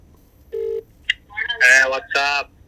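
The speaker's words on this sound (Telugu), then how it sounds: "చరణ్ ఫోన్ చేయి" A phone being dialed at home, giving a quick run of short touch-tone beeps that are close and clear, with brief gaps between them.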